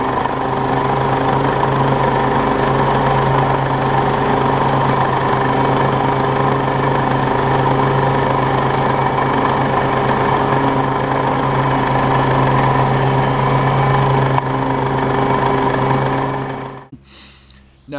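A Toro Turfmaster 30-inch commercial lawn mower runs steadily close by, a loud continuous engine drone with strong low hum, holding for about seventeen seconds before abruptly cutting out near the end.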